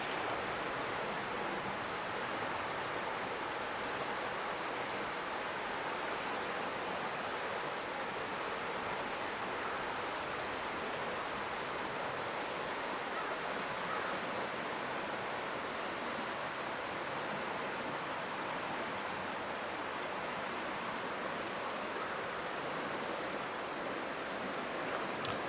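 Creek water flowing into Russell Cave makes a steady, even rush of broad noise. It holds constant for the whole stretch with no voices.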